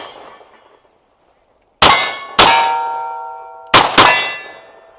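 Metallic clangs from an Icarus Precision 311, a 2011-pattern pistol, as the slide locks back: four sharp, loud impacts in two close pairs with ringing tails, after a brief quiet stretch, no talking.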